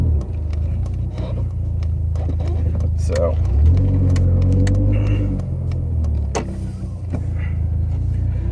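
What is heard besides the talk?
car interior while driving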